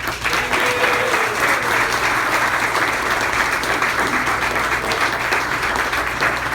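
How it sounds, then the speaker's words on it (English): An audience at a check presentation evening gives a sustained round of applause, a dense, even wash of many clapping hands at steady loudness from start to finish. "Can we give Mike McBride a round of applause"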